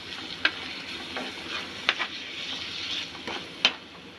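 Tomato puree being stirred into a masala in a pan for masala pasta: a soft, continuous sizzle broken by a few sharp scrapes and taps of the spoon against the pan, close and fairly quiet.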